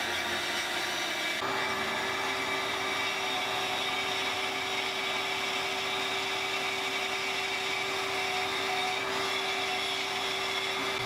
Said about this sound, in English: I started this cut on the bandsaw and got as far as I could.